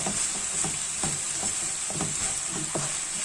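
Minced meat and vegetable filling stirred in a pan, with a steady close sizzle broken by repeated scraping strokes of a spoon at an uneven rhythm.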